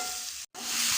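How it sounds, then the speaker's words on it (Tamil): Tomatoes fry in oil in a pan until the oil separates, giving a loud continuous close sizzle with a very brief dropout midway, and no voices. "சுருண்டு தனியாக எண்ணெய் பிரிஞ்சு வரும்போது நம்ம மசாலா சேர்த்துக்கலாம்."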